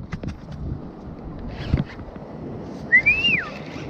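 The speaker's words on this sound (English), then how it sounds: "I'm whistling to the other boat next to me." A single rising-then-falling whistle rings out near the end from a fishing boat over a steady background of water and wind, preceded by a few scattered knocks.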